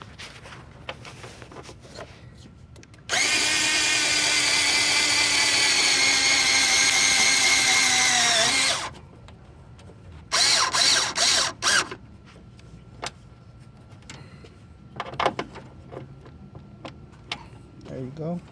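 A power drill drives a self-tapping screw while an HID kit goes into a car, with a long steady whir of about six seconds followed by several short bursts and clicks, loud and close.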